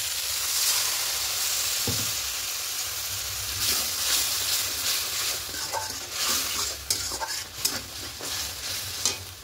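Water from a mixer jar splashes into a pan of sizzling masala: a steady hiss and sizzle with stirring scrapes that grow busier toward the end, close and moderately loud.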